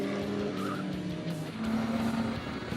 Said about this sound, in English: leaves his braking a bit late and spins his Elva Porsche round and off the track